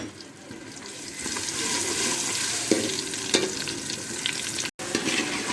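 Ground garlic and ginger masala frying in hot oil in a pot, a steady close sizzle with occasional stirring scrapes and one brief dropout near the end.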